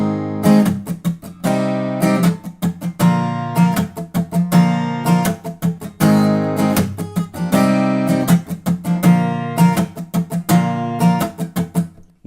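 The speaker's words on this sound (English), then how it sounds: "I immediately just mute all the strings to get that percussive beat." An acoustic guitar strums the pattern of a pop song, bright chords broken up by choked, muted percussive slaps in a steady syncopated groove, close and loud, with no voices.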